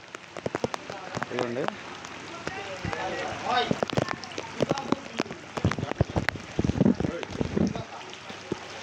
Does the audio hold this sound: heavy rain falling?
yes